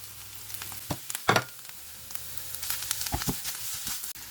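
Bacon sizzles in a pan with softened onion, a steady crackling fry broken by louder spatters and stirring scrapes, close by.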